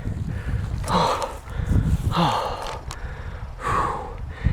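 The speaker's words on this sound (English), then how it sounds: "you're out of breath, you're panting really hard" A hiker catches his breath after climbing uphill in Napa Valley wilderness, heavy rhythmic panting close to the microphone, several deep gasping breaths in a row.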